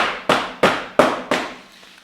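A stuck Jeep Grand Cherokee headlight bulb housing gets whacked against a tire four times in an even rhythm, each blow a sharp, loud knock that fades quickly, with no voices.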